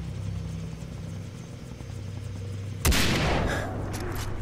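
Helicopter in the video game Far Cry 3: a low rotor drone throughout, broken near the end by a sharp burst of gunfire that leaves a brief noisy wash before the engine hum returns.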